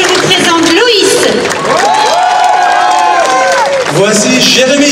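A crowd applauds and cheers at the farewell closing night of the Armageddon attraction, with shouts and whoops under a loud announcer's voice.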